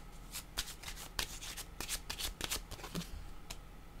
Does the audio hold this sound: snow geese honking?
no